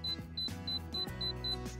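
Buttons pressed on a Brio air fryer control panel, each press giving a short high electronic beep; about six beeps with small tapping sounds, close and fairly quiet in a kitchen.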